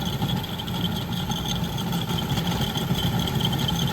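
An HVAC blower runs steady and loud after a call for cooling on a unit that is not cooling, a continuous broadband whoosh with a low hum and no pauses.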